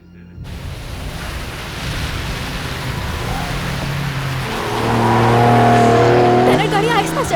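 A car speeds along with a steady engine drone and road rush that swells louder toward the end, while a voice speaks over it.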